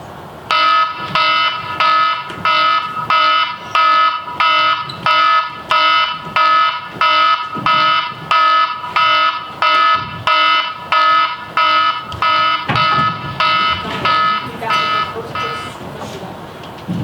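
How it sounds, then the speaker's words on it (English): An electronic fire alarm beeps in a fast, steady repeating pattern, loud and continuous, with voices faintly underneath toward the end. "The alarm is about to go off."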